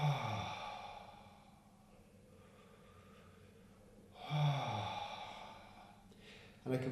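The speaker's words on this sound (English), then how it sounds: "Deep breaths in and out through the mouth." Deep breaths drawn in and pushed out through the mouth during a somatic tension-release practice, slow audible sighing exhales rising and fading across several seconds, close and fairly quiet.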